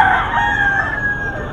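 Roosters crow at a chicken market before dawn, a loud, close, drawn-out cock-a-doodle-doo with other fowl calling faintly in the background.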